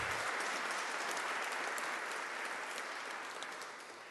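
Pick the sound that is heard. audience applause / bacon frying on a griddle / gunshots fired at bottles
audience applause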